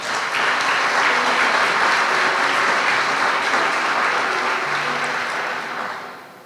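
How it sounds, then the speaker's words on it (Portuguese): A church congregation applauds the reading of scripture, a full, even wash of clapping that holds steady for several seconds, then fades out at the end, with faint voices underneath. "Você pode aplaudir a palavra?"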